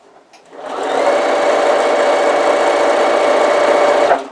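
A sewing machine stitches the side seams of a folded fabric cushion cover, running in one steady, loud, continuous burst of rapid needle action for several seconds before stopping, with no talking.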